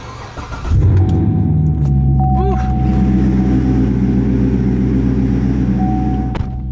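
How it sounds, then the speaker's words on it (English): A small, go-kart-like car drives and accelerates, its engine droning loud and steady near the microphone with harmonic revving throughout, while a voice briefly exclaims over it. "Forgot how fun this car is to drive though."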